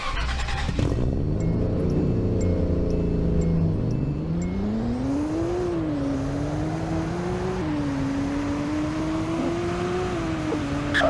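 A JDM car drives along, its engine note climbing and falling through the gears with steady revving, close and continuous, no talking.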